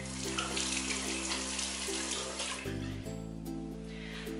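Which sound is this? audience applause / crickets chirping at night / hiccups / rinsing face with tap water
rinsing face with tap water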